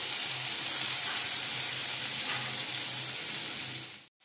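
Tomatoes dropped into a hot pan for a restaurant-style mushroom gravy give off a steady, loud sizzle with a bright hiss that holds for about four seconds, then cuts off abruptly.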